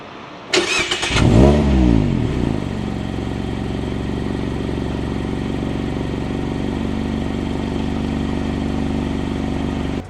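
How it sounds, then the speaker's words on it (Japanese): A Mazda Roadster 35th anniversary edition fires up with a short starter churn and a loud catch-and-rev, then settles into a steady, close idle that hums on for several seconds without talk. "じゃあ今からエンジンをかけてみようと思います。"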